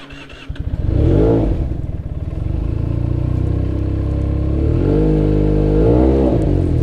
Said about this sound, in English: Let's warm up the engine once more.